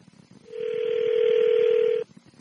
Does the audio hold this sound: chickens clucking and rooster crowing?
no